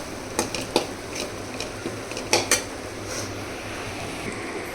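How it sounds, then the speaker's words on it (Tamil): Masala for a chicken gravy sautés in a pan with a low, steady sizzle, and a spoon knocks and scrapes against the pan in a few sharp clinks. "இந்த மாதிரி நல்லா வதங்கிக்கணும்"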